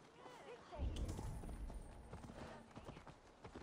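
Horse galloping in Assassin's Creed Valhalla, a rapid rhythmic run of hoofbeats with low thumps over game ambience, steady and fairly close, with speech mixed in.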